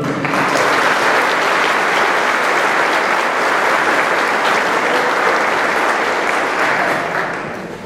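Loud, sustained applause from an audience at a municipal government report ceremony, a dense steady wash of clapping lasting throughout before tapering slightly at the end.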